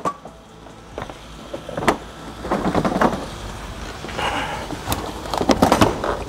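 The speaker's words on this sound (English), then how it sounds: "Now we're gonna go ahead and remove the bumper." Plastic creaks, thumps and knocks sound as the front bumper comes off a Mk5 Toyota Supra. The irregular bumps and scrapes are close and moderately loud over a low rumble, with no speech.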